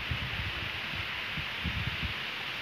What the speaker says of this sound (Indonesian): Tiba-tiba ada angin, mungkin karena masih mendung juga.